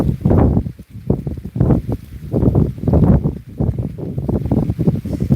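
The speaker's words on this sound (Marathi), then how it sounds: "वारं इथे सुटलेला आहे त्यामुळे माझा स्पष्टपणे आवाज तुम्हाला येत नसेल" Strong wind blows across a maize field and buffets the microphone, giving loud, uneven low rumbling gusts that swell and fade continuously throughout, with no clear talk audible over it.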